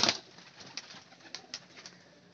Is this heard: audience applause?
no